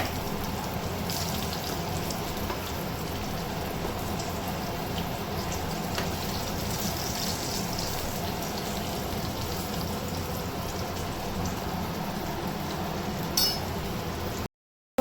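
Pointed gourd (potol) frying in a nonstick pan, a steady, even sizzle and crackle like light rain lasting throughout, with an occasional faint clink of a utensil and no talking.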